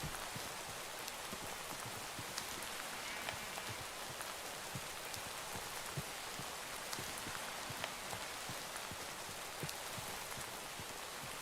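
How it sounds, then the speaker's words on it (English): Rain in the Minecraft video game falls steadily for the whole stretch, a dense, even hiss with scattered drop patters and no voices. "I love the rain, don't get me wrong."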